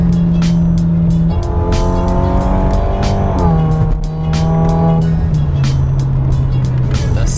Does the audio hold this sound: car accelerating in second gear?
yes